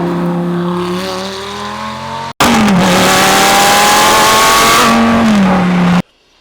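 A Lamborghini Gallardo Spyder engine revs hard and loud, pitch climbing through gear changes with a brief cut before a second sustained, roaring acceleration that stops abruptly.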